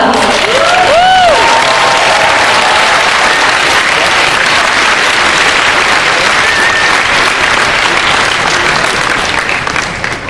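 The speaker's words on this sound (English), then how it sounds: "Let's give him a round of applause." A large audience at a DragonCon 2015 convention panel applauds loudly and continuously, dense clapping filling the room with a few whoops and cheers mixed in.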